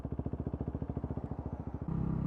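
Motorcycle fitted with a Black Widow exhaust idling close by, a steady, rapid, loping burble of even pulses, slightly deeper and rougher near the end; no talk.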